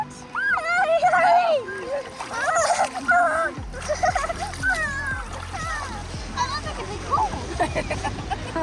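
Child jumping into water at a beach in Prince Edward Island, Canada, with a splash partway through and continued watery sloshing, under a child's chatter and an adult voice.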